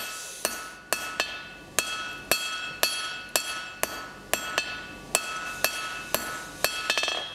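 Hammer blows ring out on hot steel over an anvil as a square taper is forged by hand, about fifteen sharp metallic strikes in an even rhythm, each followed by a short ringing decay, close and loud.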